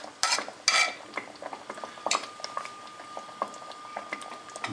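Masala with yogurt for a fish curry fries on low heat while being stirred; a quiet sizzle sits under scraping and clinks of a metal spoon on the pot, with a few louder knocks early.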